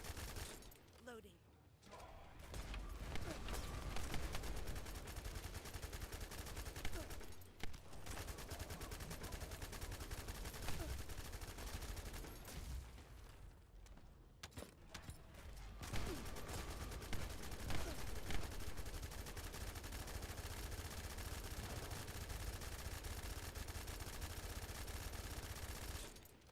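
Rapid, steady gunfire from a weapon in The First Descendant, with the rate of fire climbing as it keeps going. The shooting is loud and dense and fills nearly the whole stretch, with brief gaps between bursts.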